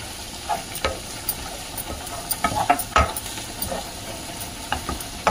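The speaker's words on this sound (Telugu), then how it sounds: "చివర్లో కొంచెం జీలకర్ర పొడి వేసుకొని ఇంకా తిప్పేసి" Red amaranth fry with cumin powder being stirred in a pan: soft, scattered scrapes and taps of the spoon over a low, steady sizzle, fairly close, with no voices.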